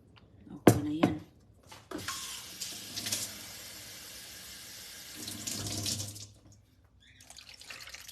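Tap water runs into a sink while vinegar-braised paksiw is prepared in a home kitchen, a gushing stream between clinks and knocks of cookware, close by and moderately loud, with a voice speaking briefly.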